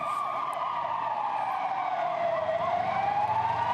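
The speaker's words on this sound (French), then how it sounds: "Au loin, on entend les sirènes des premières ambulances qui arrivent." An ambulance siren wails in a slow rising and falling tone, somewhat distant, over a steady background rumble of traffic, after a Brussels metro station bombing.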